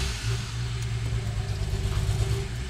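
A BMW 640i with a freshly swapped engine fires up and settles into a steady idle, a low rumbling drone with a slight uneven throb running continuously and close by.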